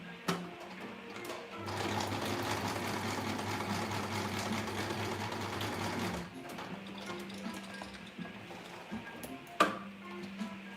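A sewing machine closes pleats on fabric face masks, running steadily for several seconds at moderate volume before stopping, then a few faint clicks and handling noises follow.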